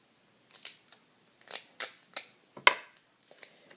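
Micropore tape being handled while preparing eyelash extensions, giving several short, sharp tearing and crinkling snaps spaced irregularly, close and fairly quiet, with no talking.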